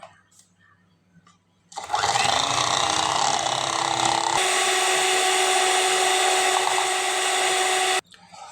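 An electric hand beater whips cream for a black forest cake, giving a loud, steady motor whir with a high buzz that starts after a short quiet lead-in, runs unbroken for about six seconds, then cuts off abruptly.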